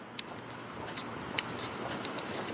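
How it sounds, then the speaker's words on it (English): Steady high-pitched insect drone of cicadas at dusk on a residential Toronto street, a continuous even buzz filling the background with faint traffic rumble beneath. "And you still got cicadas out."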